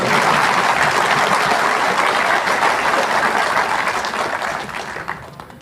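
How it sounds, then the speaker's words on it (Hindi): A large audience at an Indian railway employees' event claps loudly and continuously, dense applause that stays strong before tapering slightly at the end, with no talk over it. "और सीआरबी साहब के लिए भी बजाओ जोरदार"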